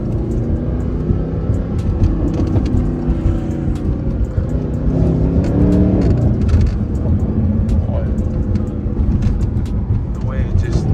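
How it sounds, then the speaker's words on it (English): A Mercedes SLS AMG engine growls loudly nearby, rising and falling through revs with sharp downshift blips, a deep continuous roar with no clear talk over it. "It sounds exotic. It sounds so angry. Those downshifts are insane."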